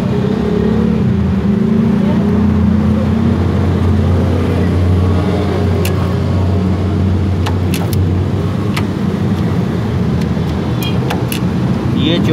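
A Suzuki GS 150 motorcycle engine runs steadily and loud, a continuous low drone with a shift into third gear, with occasional sharp clicks over the hum.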